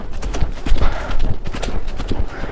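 Horse hooves clip-clopping at a quick, uneven gait while riding out on a farm to herd cattle, close and steady across the ground with faint rustling.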